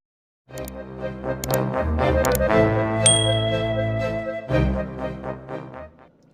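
A bright notification bell dings several times in quick succession over a swelling musical jingle, loud and close, with no talking.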